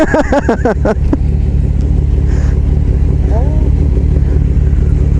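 Steady low engine drone of a motorcycle running throughout, with a brief voice near the start over the constant rumble.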